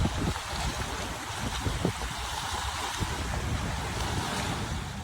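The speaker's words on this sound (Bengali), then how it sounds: "এই নদীর পাড়ে আসলে ঢেউয়ের শব্দ শুনতে বেশি ভালো লাগে" River waves lap steadily against the riverbank where small fishing boats sit, a continuous close wash of water blended with gusty wind noise, with no voices.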